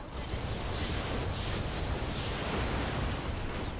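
Mech weapons fire together in the video game Roguetech, a dense, continuous barrage of blasts and rumbling explosions heard at close range without a break.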